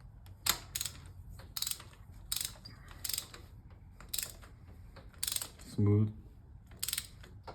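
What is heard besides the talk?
torque wrench tightening spark plugs, Nissan Versa Note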